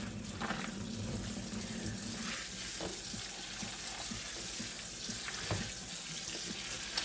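Soaked dried beans are rinsed under a running tap, with steady water flow and occasional clatters of beans and a pot at a sink.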